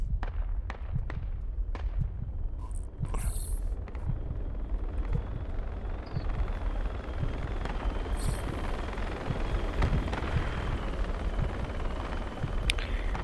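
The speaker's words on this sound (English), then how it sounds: "Chopper's coming." A helicopter in a jungle warfare video game, a continuous low rotor rumble throughout with sharp booming explosions and cracks early on, loud and close.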